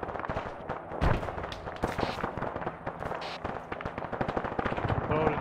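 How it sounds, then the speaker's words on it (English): Rapid bursts and single shots of gunfire in a military counterinsurgency firefight in Arma 3, dense and fairly loud, with voices talking over the shooting throughout. "it's almost like he's shooting through the wall"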